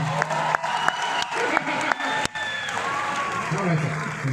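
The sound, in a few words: audience clapping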